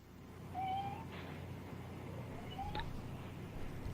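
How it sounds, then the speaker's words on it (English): A kitten meows twice in the background of a podcast recording, thin rising cries spaced about two seconds apart, faint under the room hum. "Is that a cat in the background?"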